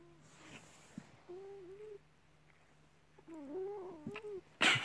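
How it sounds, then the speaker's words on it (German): A male house cat makes drawn-out meows and wavering yowls, close to the microphone over a low background hum, with a sharp louder noise at the end. "Die Geräusche, die ihr gerade im Hintergrund hört, ist mein Kater."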